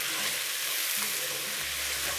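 Onions fry in a pan for a paneer tikka masala, a steady close sizzle with faint stirring and scraping and a low hum underneath.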